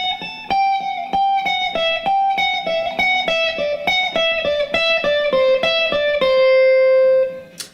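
Electric guitar shred lick in a rapid, even run of picked notes descending step by step along a single string, ending on a held note, played solo and close with no talk.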